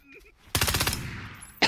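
A handgun set to full auto fires a rapid burst in PUBG, loud and close, with evenly spaced shots for about half a second and a stray sharp report at the very end.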